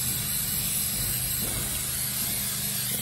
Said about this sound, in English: this is the part I like to spray the brake cleaner